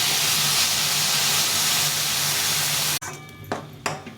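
Water poured into a hot cooking pan of fried spices, whole green chillies, salt and turmeric, a loud dense hiss lasting about three seconds that cuts off abruptly, followed by a few soft clinks and stirring sounds.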